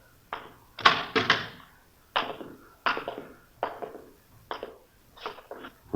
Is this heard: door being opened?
yes